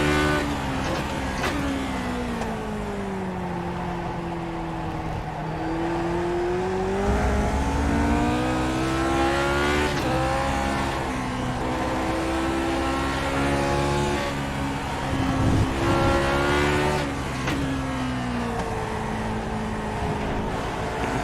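A vintage race car engine in iRacing's Grand Prix Legends at Donington revs hard and shifts repeatedly through short gear ratios, the whining pitch climbing and dropping in quick cycles, loud and up close.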